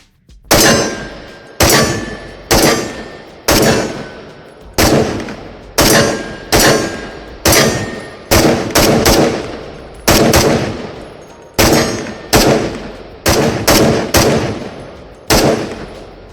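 Loud gunshots from a VR shooting game ring out in bursts: more than a dozen sharp cracks with metallic clangs, some in quick pairs, separated by brief pauses, no talk.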